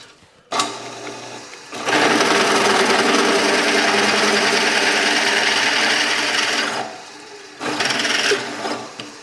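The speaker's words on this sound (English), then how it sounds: "Drill the pilot hole first." A drill bores a pilot hole through oiled metal, a steady grinding whir that starts briefly, pauses, then runs loud and continuous for several seconds before a short final burst.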